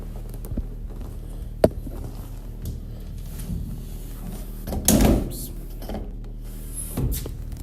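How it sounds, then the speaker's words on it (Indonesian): Inside a house, a sliding door rolls and bangs shut with a loud thump, preceded by a sharp knock and followed by another softer knock, over a low steady hum with faint voices. "pintu geser yang ada di rumah itu tiba-tiba tertutup dengan sendirinya"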